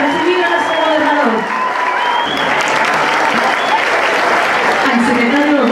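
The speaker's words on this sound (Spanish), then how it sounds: "que se escuchen esos aplausos para recibir a nuestro gobernador" A crowd at an outdoor political tour event in Huitzuco applauds loudly and steadily to welcome the governor, with scattered cheers and voices mixed into the dense, continuous clapping.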